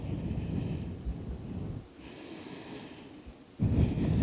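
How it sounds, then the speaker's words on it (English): Deep, audible breaths during a power yoga class, slow airy inhales and exhales drawn in and pushed out through the nose, close and fairly loud with a brief quieter pause between. "Deeply breathing."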